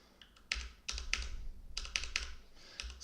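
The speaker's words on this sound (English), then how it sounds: "So let's shuffle everything before." Cards from the Machina Arcana board game being shuffled nearby, a series of short crisp riffling bursts with soft taps between them, with no voices.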